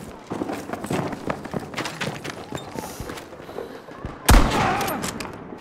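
Gunfire in the video game Battlefield V: rapid bursts of shots and scattered clattering impacts, capped by one loud close blast near the end, with players talking over the action.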